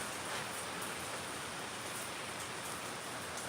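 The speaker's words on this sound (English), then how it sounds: "It is raining, you guys." Rain pouring steadily outside, an even, fairly quiet wash of drops hissing on surfaces throughout.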